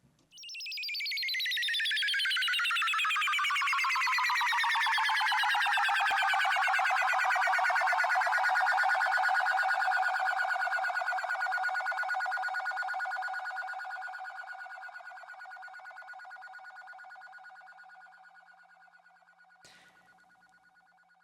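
A synthesizer faller patch with reverb: a bright tone swoops down in pitch over a couple of seconds, then holds and slowly fades with a long reverb tail, loud and alone.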